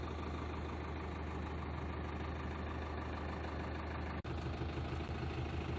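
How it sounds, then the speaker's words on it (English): A continuous, loud mechanical drone of a pressure washer motor cleaning a boat hull out of the water runs steadily, broken by one brief dropout near the end. "This boat has been brought out of the water and being jet washed"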